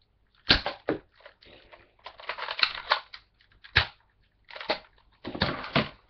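A plastic Nerf toy gun fires several sharp, clacking shots up close, spaced irregularly with short quiet gaps between them.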